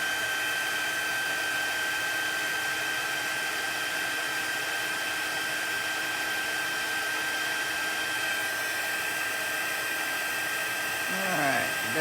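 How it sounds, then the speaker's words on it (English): A heat tool for embossing powder on a card blows with a constant, steady whirring hiss for the whole stretch, close and even, with a brief rustle near the end. "heat emboss it."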